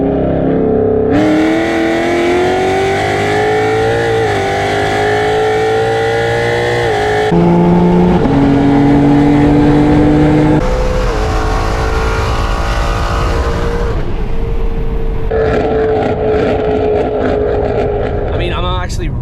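Loud modified Ford Mustang GT 5.0 with bolt-ons, running on E85, driven through the city: a close, roaring engine climbs and falls in pitch through repeated revs and gear changes for the whole stretch.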